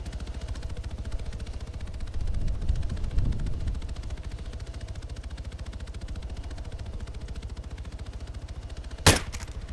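Rapid, evenly spaced automatic gunfire from ARMA 3 rattles steadily for nearly ten seconds over a low engine drone, ending with one sharp louder crack near the end.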